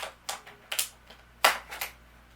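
Scissors snip through the little restraints binding a Masterverse Sun-Man action figure, giving several crisp, close clicks in an uneven rhythm over a quiet background.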